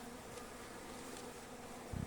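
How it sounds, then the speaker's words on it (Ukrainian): A swarm of honey bees packed into a hive feeder gives a steady, dense buzz throughout, close and even, with no voices. "Дивіться, повністю і кормушка, все забитий бджолою."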